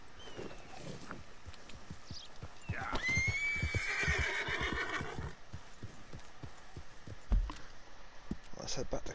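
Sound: horse neighing in Red Dead Redemption 2 video game

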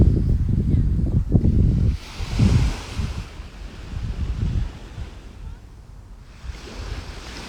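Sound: sea waves and wind at the beach

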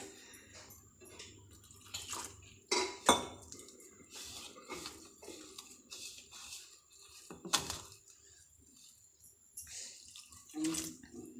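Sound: mixing ridge gourd bonda batter in a bowl

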